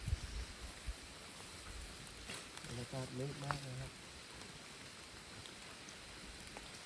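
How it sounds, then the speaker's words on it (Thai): Steady hiss of rain falls throughout, with someone speaking briefly in the middle over it. "นี่เราลุยกลางฝนเลยนะ"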